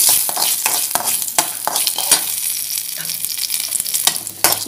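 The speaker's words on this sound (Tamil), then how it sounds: "ஒரு பேனில் ஆயில் ஊற்றி கடுகு போட்டுக்கலாம். கடுகு பொரியுது, உளுந்து போட்டுக்கோங்க." Mustard seeds and urad dal crackle and sizzle loudly in hot oil in a pan, with sharp popping bursts and stirring scrapes over a continuous hiss.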